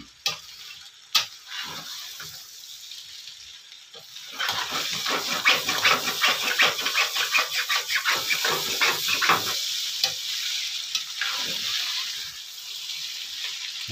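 Chow mein fries and sizzles in a pan at home, with bursts of stirring and tossing scrapes over a continuous hiss, close and moderately loud.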